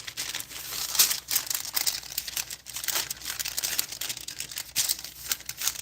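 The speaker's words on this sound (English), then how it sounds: "you're spraying the parchment paper" Parchment paper crinkles and rustles as it is handled in a kitchen while keto hot pockets are made, irregular close crackling bursts at a fairly soft level.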